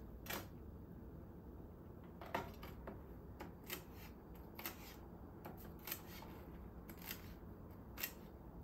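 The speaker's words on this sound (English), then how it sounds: "it's thick enough that you can cut multiple herbs at one time" Kitchen scissors snip through a bunch of fresh herbs, giving quiet, crisp cuts at a steady rhythm over a faint background hiss.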